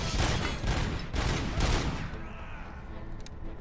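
A shooter video game fills with dense, rapid gunfire, loud bursts overlapping for about two seconds before thinning into a quieter background with a few distant pops.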